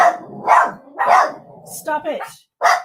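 Dogs barking in repeated loud bursts at a neighbor's cat passing by a window, with a person's voice breaking in between the barks.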